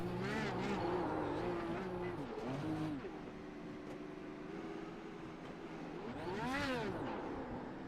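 IndyCar race car doing a burnout at the season-finale Grand Prix of Monterey, engine revving loud and wavering up and down, with a fresh surge of revs near the end.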